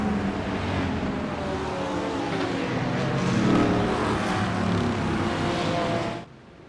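GT3 race cars run flat out on the high banking at Charlotte Roval in iRacing, a dense sustained engine roar that swells in the middle and then cuts off abruptly near the end, with no voices.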